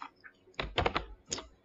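Someone types on an Icelandic computer keyboard: a few quiet taps, then two short, clustered bursts of key clicks, close and crisp.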